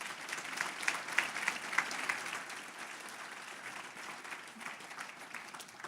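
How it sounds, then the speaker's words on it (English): Sustained audience applause at an education conference session, fairly distant and even, with dense clapping holding steady throughout. "If we give them a round of applause,"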